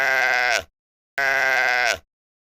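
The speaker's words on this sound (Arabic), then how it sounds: "خروف" A sheep bleats twice, loud and close, each wavering bleat lasting over half a second with a short silent gap between them and nothing else audible.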